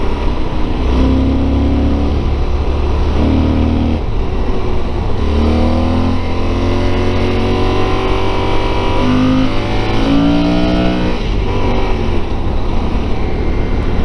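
A Yamaha Super Tenere motorcycle engine runs steadily after a wheelie on a country road, a loud, close, continuous drone whose pitch rises and falls through several gear changes, with no talk.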